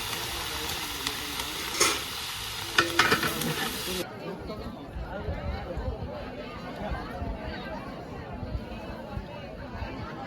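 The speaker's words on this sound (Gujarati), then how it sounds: "સંભારો કોબીનો અને મરચાંનો વઘારેલો." Cabbage and green chilli relish tempered in hot oil, a loud crackling sizzle with stirring clatter that drops to a softer fry, while voices chatter in a busy household around it.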